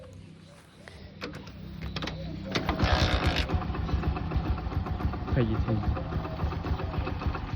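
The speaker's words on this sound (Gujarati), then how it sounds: "બાઇક ગરમ કરી દઉં પહેલાં" A motorcycle engine starts and settles into a steady, close idle to warm up before a ride to work, with a short spoken remark over the running engine.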